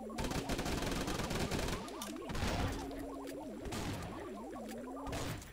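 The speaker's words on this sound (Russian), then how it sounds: "И будем вот так вот, ребячки, автоматом стреливать все." Machine gun fire in the Swamp Attack mobile game, a rapid rattling burst that runs steadily under wavering, melodic game sound effects, loud and continuous across the short stretch.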